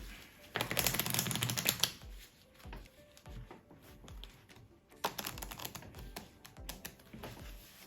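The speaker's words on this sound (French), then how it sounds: "on va venir couper le paquet où il le souhaite, retourner et le placer en face. Et on va venir mélanger." A deck of playing cards being cut and riffle-shuffled during a card trick, two bursts of brisk rapid flutter up close separated by quieter taps and handling of the cards.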